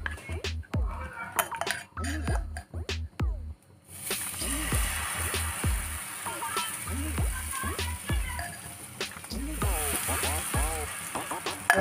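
Besan batter cooking in hot mustard oil on a pan, with soft sizzling and frying under occasional clinks of a spoon or utensil against the pan. A person talks intermittently over the cooking sounds.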